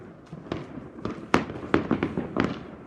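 A firework battery goes off on New Year's Eve in a series of sharp cracking bursts, about seven or eight in quick irregular succession, heard from a moderate distance.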